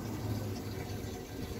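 Water runs into 5-gallon jugs at a fill point in Wyoming, a steady gushing stream with a low hollow rumble from inside the container, even and moderately loud throughout.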